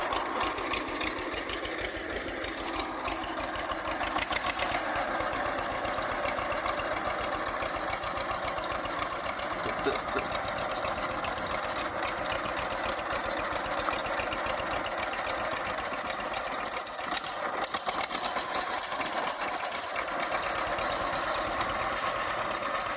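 A 782 tractor idles at a tractor show in Clay City, Indiana, its engine holding a steady, even mid-pitched chug throughout, fairly close and unaccompanied by talk.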